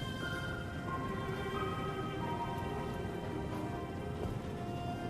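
Steady rain falls in the game Fallout 4, a constant even hiss of drops close around the listener with no pauses, alone without voices.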